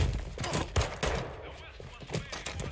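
Rapid gunfire rings out in Modern Warfare II, with a burst of loud, sharp, close shots early on, then scattered quieter reports.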